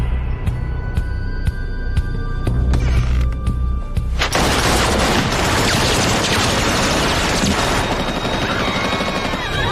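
A sharp gunshot cracks out in a museum heist scene after a few isolated bangs, followed by a dense roar of gunfire and chaotic noise that continues loudly to the end.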